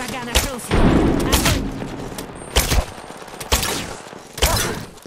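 Video game gunfire, heavy, with loud separate shots and short bursts spaced through the clip, one longer rumbling volley near the start, close and punchy.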